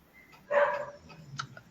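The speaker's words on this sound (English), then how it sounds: "Oh, you're hearing the dog." Outside, a dog lets out one fairly loud, close bark, then a few quieter yips and a short sharp bark trailing off.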